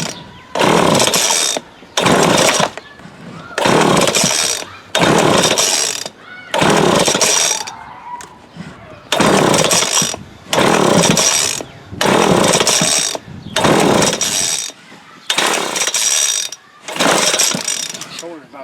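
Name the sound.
McCulloch Mac 3516 chainsaw being started and run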